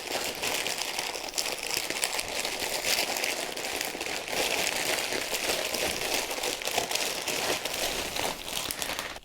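A thin oxo-degradable plastic bag being unwrapped from a Warhammer 40K Conquest magazine issue, a close, continuous crinkling and rustling with rapid crackles throughout.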